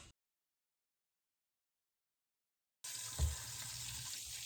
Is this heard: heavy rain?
no